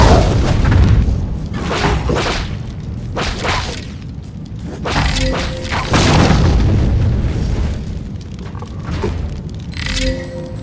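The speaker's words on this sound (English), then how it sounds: "Saruman's forces move strange explosive devices through this town. Help us destroy them. Watch out for the explosives!" Explosive devices detonating in The Lord of the Rings: The Two Towers video game: a series of heavy booms and whooshing blasts, several loud bursts spaced across the stretch with rumbling tails, no talking.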